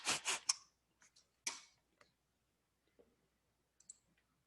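A computer mouse button clicked several times during Cinema 4D work, sharp close clicks with a quick double burst at the start, then sparse single clicks spaced apart in a quiet room.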